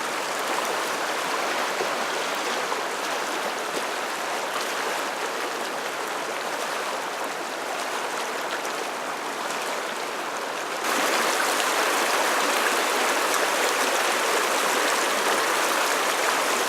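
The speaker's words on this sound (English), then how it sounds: "The warm river is relatively warm and fast running." The fast-running Warm River rushes past in a steady, close hiss of flowing water, holding constant and then swelling noticeably louder for the last few seconds, with no voices.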